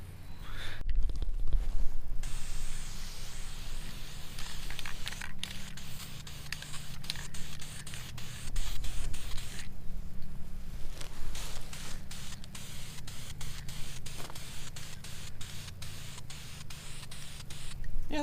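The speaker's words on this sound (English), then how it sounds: "Don't ever let anybody tell you that spray bombing stuff doesn't make it look better" Spray can paint hissing onto car parts in a paint booth, long steady bursts broken by short pauses and sharp clicks, close and fairly loud with no talking.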